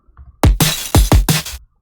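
Bit-crushed hi-hats in a remix beat, gritty and crunchy from bit depth reduction, striking in a quick irregular run of about five hits, loud and up close with no voice.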